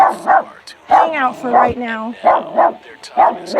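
A protective dog barks and yips in repeated bursts close by, with whimpering between barks, while a person talks over it.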